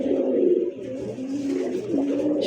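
Two gorra pigeons coo close by in a low, continuous throaty rumble that swells and dips in repeated phrases for a couple of seconds.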